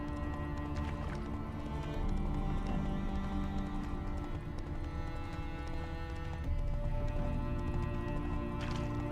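Roach, the horse in The Witcher 3 video game, clip-clops steadily along with a possible whinny, set against a dense, continuous bed of game music and ambience.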